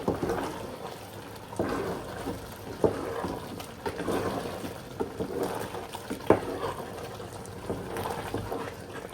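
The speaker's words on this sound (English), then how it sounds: "So let's stir our beans and plantain." Beans and plantain cooking in a pot are stirred, giving a continuous thick bubbling and wet sloshing with soft scrapes recurring every second or so at close range.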